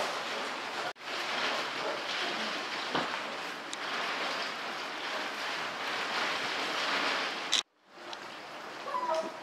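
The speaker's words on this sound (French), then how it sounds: "c'est pas encore aujourd'hui que les chiots d'Even vont mettre le nez dehors, puisque là, il tombe des trombes d'eau." Heavy rain pouring down outdoors near a dog kennel, a dense continuous hiss of water that runs almost unbroken, cut off abruptly twice by brief gaps.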